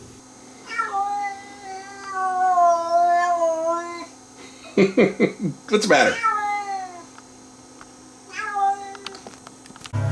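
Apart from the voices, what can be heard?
cat meowing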